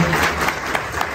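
An audience at a public event with officials applauds in a dense, steady clatter of hand claps, close and loud, with no voices.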